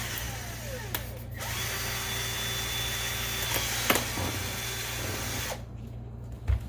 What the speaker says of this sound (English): We're going to be drilling right there with a 1/4 inch hole initially